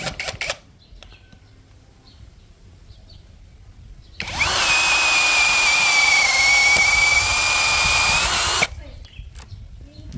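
After a quiet stretch, a Doliz BD617 cordless brushless drill with a 13 mm auger bit spins up and bores steadily through 15 cm thick mahogany for about four seconds with a high whine, then stops abruptly.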